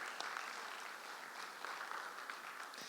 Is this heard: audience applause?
yes